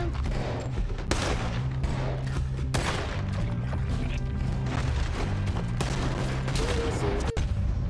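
Rapid gunfire in Red Dead Redemption, with repeated sharp shots and heavy booms across a noisy shootout, loud and dense throughout, plus a few louder cracks near the end.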